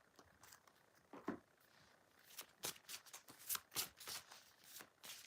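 A deck of tarot cards is shuffled in quiet, close bursts of papery riffling and snapping, with short pauses between bursts and no talking.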